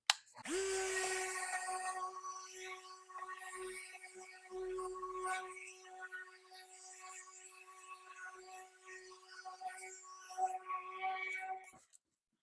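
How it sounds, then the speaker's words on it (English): Power sander running continuously on a piece of furniture finished with polyacrylic, a steady whining drone with a strong fixed tone that holds for about eleven seconds before cutting off abruptly. "We're going to sand it a little bit, give it a little bit of more age."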